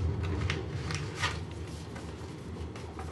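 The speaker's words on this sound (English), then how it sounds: "We'll open up the envelope and tape the PCB in." An envelope is opened by hand and a printed circuit board taped inside, with soft paper rustling and crinkling and a few sharp tape-pulling bursts, close and quiet without speech.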